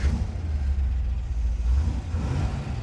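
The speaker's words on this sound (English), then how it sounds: "Just listen to that engine purr." A C2 Corvette convertible's 340-horsepower solid-lifter 327 V8 idles steadily, a loud, close, continuous low rumble with a slight rise in revs partway through and no talking over it.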